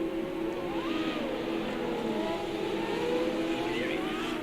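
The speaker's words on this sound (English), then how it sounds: "Guys are just saying that our engine sounds are pretty loud" Renault 3.5 race cars in a sim racing game, engines revving and sweeping up and down through gears in a loud, continuous overlapping whine.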